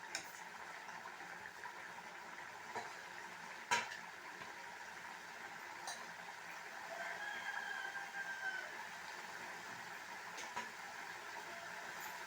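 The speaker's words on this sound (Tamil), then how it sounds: "இப்போ வந்து இது கொதித்து ரெடி ஆகிடுது" A soft, steady bubbling and sizzling of egg gravy simmering in a pan, quiet and continuous, with a few faint clinks.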